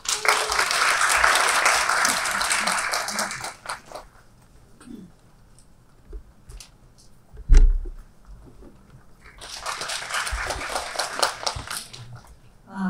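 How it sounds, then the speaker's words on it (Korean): Audience applause welcoming a speaker at a youth forum session in Jeju, a loud burst of clapping that stops abruptly, followed by quiet room noise and a thud, then a second round of applause. "큰 박수로 맞이해 주시기 바랍니다"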